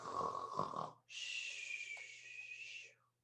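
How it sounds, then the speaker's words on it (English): A loud, drawn-out snore: a rough rasping inhale followed by a long, hissing, breathy exhale, close and unaccompanied by talk. "He let out a loud snore."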